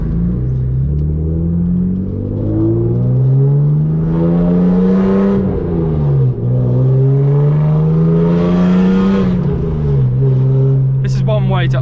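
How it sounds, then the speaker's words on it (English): Loud straight-piped six-cylinder BMW E36 with a Stage 2 remap, 105,000 miles, revving hard through a village, engine note rising and falling across two big pulls with pops and crackles on the overrun. "Oh, we got pops, baby! That's my Monsoon Stage 2 remap."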